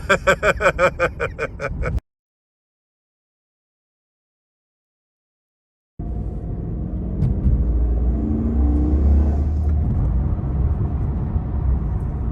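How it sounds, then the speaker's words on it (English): A 2015 Holden Caprice-V with a 6-litre V8 sits under a brief opening noise, then a few seconds of silence. After that the engine rumbles up into a sustained, swelling rev that stays loud to the end. "So it'll give it a little rev as it keep those revs up"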